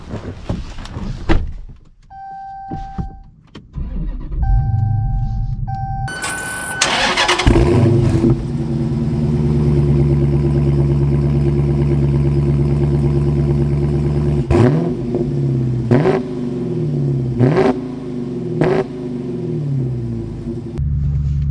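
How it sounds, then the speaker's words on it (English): Manual Dodge Challenger Scat Pack heard from inside the cabin: chimes and a door, then the engine cranks and fires into a deep idle rumble, followed by several revs as the car pulls away and shifts gears. "So we are setting off here in the Challenger with the manual"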